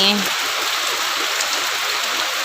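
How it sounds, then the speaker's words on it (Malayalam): Steady, loud downpour of heavy rain hissing continuously across the whole stretch, with a brief voice at the very start. "നല്ല മഴയാണ് നല്ല നല്ല മഴയാണ്"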